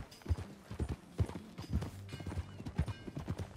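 Horse hooves clip-clop at a steady walking pace in Red Dead Redemption 2, a series of close, distinct low thuds over a faint background.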